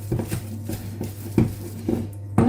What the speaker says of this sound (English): add the beaten eggs a little at a time, beating well between each addition